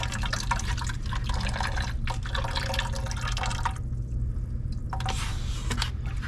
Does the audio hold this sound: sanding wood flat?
no